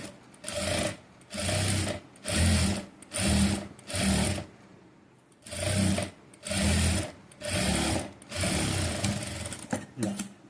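A sewing machine stitches along the edge of a blouse in repeated bursts of rapid whirring, broken by short pauses, close up, with a voice talking over it.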